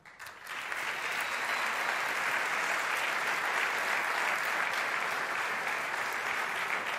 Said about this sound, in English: a big round of applause for the Moto3 Rookie of the Year